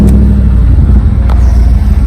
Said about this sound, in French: c'est un Mercedes classe G55 qui fait 550 chevaux